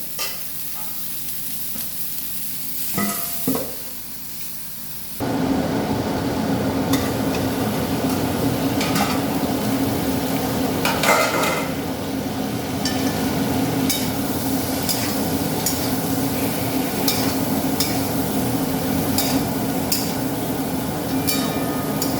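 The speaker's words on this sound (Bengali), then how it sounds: "একটু শুকনো এতে ভাজা ভাজা হোক," Pointed gourd and potato pieces fry together in a pan, a steady, loud sizzle that starts abruptly after a few quiet seconds with faint clatter, then continues evenly to the end.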